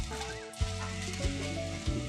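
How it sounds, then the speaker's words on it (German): Eggs fry steadily in oil in a hot pan for fried rice, with a few soft knocks or stirring taps at regular intervals. "Die Eier zügig braten und wenden."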